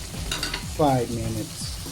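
Sausage and green peas stirred in a pan for a sausage chili, with a steady sizzle and scraping strokes under a brief spoken phrase.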